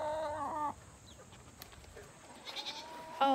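Farm goats bleating, a loud wavering bleat at the start, a quieter stretch of faint farmyard rustle, then further calls building near the end.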